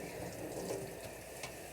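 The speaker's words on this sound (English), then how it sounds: "that you switch over to cold water." Cold water running from a kitchen tap while raw ribs are cleaned before smoking, a steady broadband splash that holds evenly for a short stretch with no talk over it.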